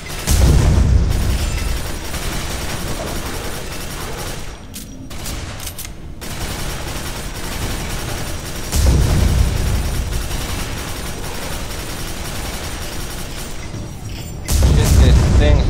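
Rapid machine gun bursts and heavy explosion booms from the PC shooter game Quake 4 come in dense waves, with several loud thumping blasts breaking through the sustained fire, and a player talks over it.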